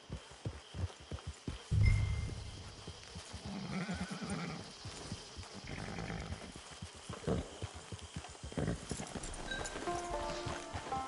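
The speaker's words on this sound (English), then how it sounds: "Get your horse." Horse in the video game Red Dead Online, walking with clear clip-clop hoofbeats near a camp and giving a loud whinny early on, hooves continuing in an uneven rhythm close by.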